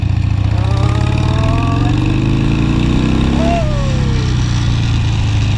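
A Harley motorcycle engine pulls away hard, its loud droning note climbing steadily in pitch, then dropping and rising again as it shifts gear, heard up close throughout.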